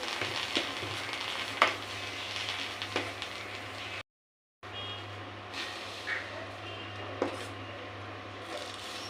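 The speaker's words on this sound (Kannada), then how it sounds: "ಚೆನ್ನಾಗಿ ಕಾದ್ಮೇಲೆ ದೋಸೆ ಹಾಕಬೇಕು" Palak dosa batter frying on a well-heated pan gives a steady, close sizzle with occasional sharp scraping clicks, broken by a brief moment of silence.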